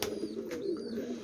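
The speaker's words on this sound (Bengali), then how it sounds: "পায়রাটা হাই ফ্লাইং পিজন আছে" A Rampur Lalshira high-flying pigeon coos in one continuous low, throaty rumble, close and moderately loud, with no talk over it.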